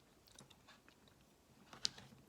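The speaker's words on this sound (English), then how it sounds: "Let me just try another bite here because this is supposed to have chunks of lemon cookie in it" A bite of lemon cookie ice cream is chewed in quiet, close mouth sounds, with soft crunchy ticks and one sharper click.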